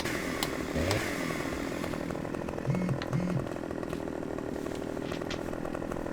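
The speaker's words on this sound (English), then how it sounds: "Alright, chainsaw." A chainsaw in Farming Simulator 15 runs as a continuous buzzing engine drone with a few brief tonal swells and a sharp click at the end, moderately quiet and without speech.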